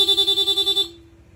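A Honda ADV160 scooter horn sounds in rapid mode, a fast warbling series of beeps pulsing for under a second before cutting off.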